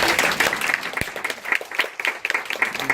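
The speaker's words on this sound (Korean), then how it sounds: "오늘 고생해주신 이만수 박사에게 큰 박수 부탁드립니다" Audience applause at a Google education GEG Day event in Korea, a steady wash of clapping from a room of people, moderately close and continuing for the full stretch without speech.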